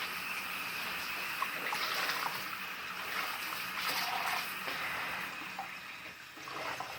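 Hot water runs steadily from a tap into a sink during washing, a continuous hissing, splashing stream at moderate level with small clinks and shifts in the flow.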